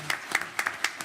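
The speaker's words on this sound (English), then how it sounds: "And if y'all would give all these a big round of applause" Council meeting audience applauding award recipients, a short burst of scattered hand claps from a small crowd, moderately close.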